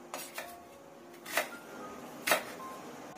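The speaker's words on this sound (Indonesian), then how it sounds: "Ini juga kita potong besar-besar aja bawang bombay-nya" A knife chops a quarter of an onion into large pieces, giving four sparse, sharp taps against a cutting board, quiet and close, with no voices.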